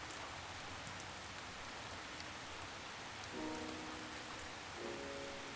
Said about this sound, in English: These downpours were persistent and strong, continuing for many days.